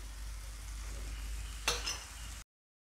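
Oil poured onto a jowar flour dhirde cooking on a pan: a steady hiss swells into a brief burst of sizzling near the end before cutting off abruptly.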